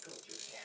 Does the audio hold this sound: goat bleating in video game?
no